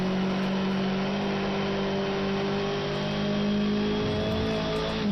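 A sim race car engine roars flat out at Brno, a loud sustained mid-pitched drone holding steady revs before easing slightly and climbing again, with no voices over it.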